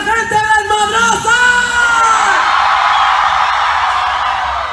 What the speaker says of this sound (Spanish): ¡Es el grito de la gente desmadrosa!